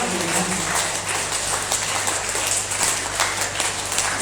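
Audience applause at the closing day of a yoga festival; dense, sustained clapping from a crowd, fairly loud and continuous, with a low hum underneath.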